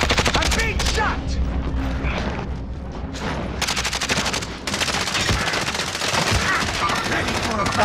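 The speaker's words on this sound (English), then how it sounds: "I'm being shot!" Dense, loud automatic gunfire from a Call of Duty match rattles in fast bursts nearly throughout, with sharp shots and a few heavier booms layered over constant battle noise.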